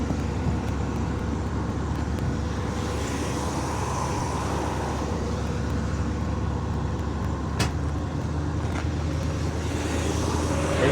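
A restored 1967 Corvette coupe's 327 cubic-inch 300-horsepower V8 with Powerglide idles steadily and fairly loudly nearby, a continuous low engine rumble with a faint click partway through.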